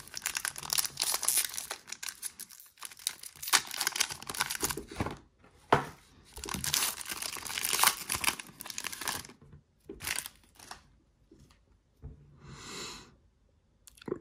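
A basketball trading card being slid into a plastic sleeve, with crinkly, rustling plastic bursts and short pauses, close up and fairly loud.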